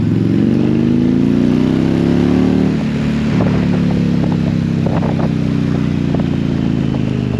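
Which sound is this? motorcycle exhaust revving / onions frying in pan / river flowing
motorcycle exhaust revving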